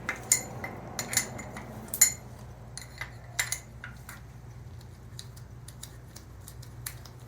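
Metallic clinks and taps from a socket wrench loosening bolts on a 1989 KX250 dirt bike, a scattering of sharp close ticks and clanks over a low steady hum, spaced irregularly and fading toward lighter clicks.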